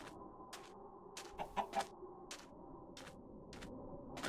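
Chickens in the Minecraft video game cluck in short, repeated bursts at a steady rhythm, fairly close and clear with no talk over them.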